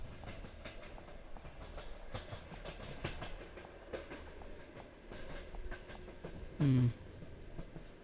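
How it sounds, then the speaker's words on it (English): A packed passenger train sits at a station platform, its low rumble and clatter steady in the background, broken near the end by a short loud whistle-like tone. "The train's packed."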